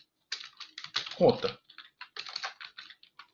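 Code typed on a computer keyboard in a series of close, quick keystroke clicks in bursts, with someone speaking Portuguese briefly over them.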